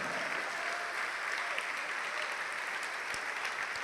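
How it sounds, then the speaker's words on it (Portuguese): Sustained, even clapping from a church congregation fills the hall from start to finish, a thick wash of many hands at one volume. "vamos aplaudir mais ao Senhor"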